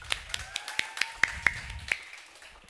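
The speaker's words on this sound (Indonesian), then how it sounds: "Tepuk tangannya dulu dong." Sparse individual claps from a small audience at a millennial philosophy talk sound in an uneven series of about eight sharp, close hand claps over a faint background tone, then fade out.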